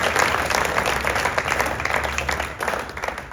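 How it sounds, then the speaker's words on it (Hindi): Sustained audience applause for Bhavani at a Rajasthan police gathering, a dense steady wash of many hands clapping that fills the whole stretch at an even, fairly loud level. "भवानी के लिए एक बार जोरदार तालियां बजा दिया"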